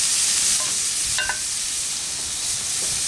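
Honey soy sous vide pork tenderloin sears in a hot pan, a steady loud sizzle and crackle up close, with a couple of faint clicks partway through and no talk.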